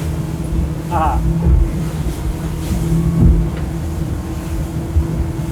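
An Axopar 29 CCX motorboat running at about 35 knots over wakes, with a loud, steady engine drone, rushing water and wind buffeting the microphone, plus a few hull thumps.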